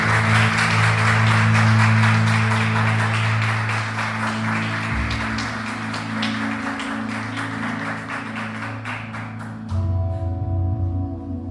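A church congregation applauds during an evening service, a long round of clapping over a sustained musical tone that gradually fades and thins out before the clapping stops near the end.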